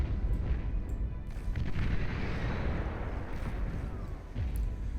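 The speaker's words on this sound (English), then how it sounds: "Battleship to shell away at the shoreline." Battleship shelling a shoreline in the strategy game Beyond All Reason: a dense, rumbling barrage of distant booms and explosions rolling on continuously, with a few sharper blasts standing out.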